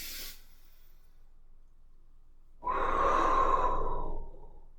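A single slow, deep breath is drawn in through the nose during qigong practice. It is close and breathy and lasts a couple of seconds after a short silence.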